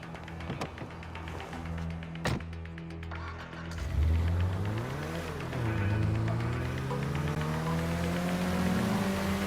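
A car driven in a PS5 action game, its engine humming steadily and then revving up with rising pitch, loud and close, alongside a brief tap, with no talking.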